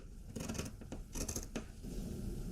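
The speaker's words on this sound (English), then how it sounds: "we're going to cut back the seam allowance and clip it" Scissors snipping into a fabric seam allowance on a sewn waistcoat, a quick series of sharp close snips and scratchy cuts in separated bursts with no talking.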